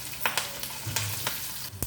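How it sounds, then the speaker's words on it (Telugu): Curry leaves crackle and sizzle in hot oil for a tempering, with steady frying hiss and several sharp pops spaced through the clip, close and fairly loud with no talking. "ఇప్పుడు పోపు వేగింది కదా,"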